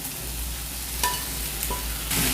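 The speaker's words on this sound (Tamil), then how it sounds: "இப்போ இந்த ஸ்டேஜில் நம்ம பொரிச்சு வச்சுருக்க சிக்கன் எல்லாத்தையும் போட்டுடலாம்." Fried chicken pieces tossed into a hot pan of sizzling onion, garlic, dried red chilli and sauce for Andhra-style Guntur chicken, with a steady close crackle and a few sharp scrapes and clatters as it is stirred.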